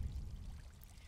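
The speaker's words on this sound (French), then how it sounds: "Donc une nouvelle zone pleine d'eau." Waterfall in the video game Gris, a steady rushing pour of water filling the scene at moderate level, continuous and unbroken throughout with no voices.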